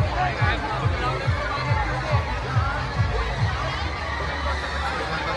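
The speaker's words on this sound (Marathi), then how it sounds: "हा बघा कसली गर्दी आहे" Dense crowd bustle at a busy religious yatra fair for Sant Shekh Mahammad Maharaj in Shrigonda, a steady wash of overlapping voices and movement with a rhythmic low thumping running through it.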